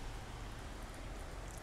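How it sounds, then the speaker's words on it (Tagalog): Heavy rain pours down in a steady, broadband hiss with no breaks, fairly faint and distant, with no voices. "Sobrang lakas ng ulan."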